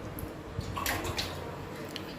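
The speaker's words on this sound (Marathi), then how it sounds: "आता ह्यात थोडं पाणी घालणार आहे" Water pours into a kadhai holding measured bowls of karonda fruit for moramba, a soft splashing trickle with a few sharper drips and splats, close by and fairly quiet, with no talk.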